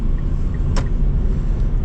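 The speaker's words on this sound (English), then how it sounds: "I'm going to pull out into traffic" A car pulls out into traffic from a stop sign, its engine and road rumble loud and steady throughout, with one brief sharp click partway through.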